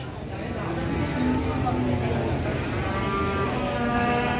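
Cattle moo in a busy livestock market in Jelok, Boyolali, the lowing calls rising over a steady crowd murmur and nearby talk.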